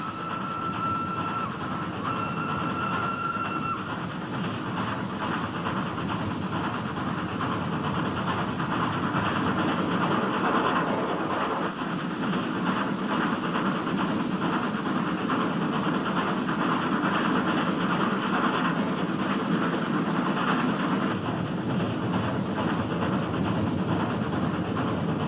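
A train rumbles steadily along a mountain rack railway in southern India, where cog wheels grip a toothed rail between the tracks on the steep descent, giving a continuous rolling, clattering drone over a long stretch with no voices.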